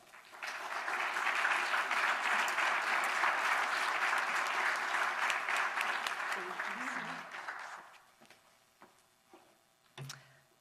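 Sustained audience applause at an evening talk on jobs and renewable energy, loud and steady for about eight seconds before thinning out to a few scattered claps and small room noises.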